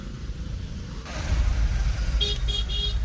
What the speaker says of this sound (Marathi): खूप जास्त ट्रॅफिक लागलेली आहे बघू शकता